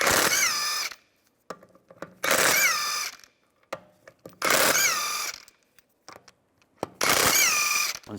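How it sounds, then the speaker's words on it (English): Four loud bursts of a power impact tool whir off BMW X3 lug bolts with a 17mm socket, with short clinks and clatter in the pauses between each run. "Use a 17mm socket to take the lug bolts out."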